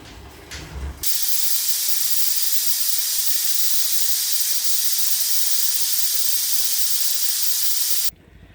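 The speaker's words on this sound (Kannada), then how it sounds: "ಎರಡು ವಿಷಲು ಅಕ್ಕಿ ತುಂಬ ಗಟ್ಟಿ ಇದ್ದರೆ ಮೂರು ವಿಷಲು" A loud, steady hiss of steam blasting from a pressure cooker whistle while cooking bisi bele bath with rice, holding for about seven seconds before cutting off abruptly.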